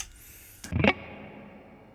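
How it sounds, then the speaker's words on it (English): Electric guitar run through an HX Stomp dynamic hall reverb in an amp's effects loop: one brief chord stab whose sound blooms into a lush, long hall tail that slowly decays into quiet. "Adding in the dynamic hall reverb."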